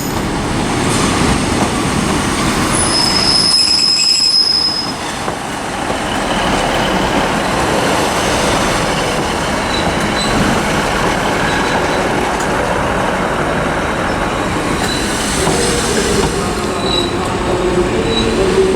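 ScotRail class 156 diesel train rolling into Glasgow Queen Street station, a loud sustained rumble of engine and wheels with brief high squeals of brakes, steady and close throughout.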